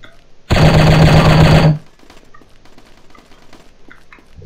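Sustained automatic gunfire from the Striker shooting video game, a loud continuous burst of rapid shots lasting just over a second, followed by quieter scattered game effects.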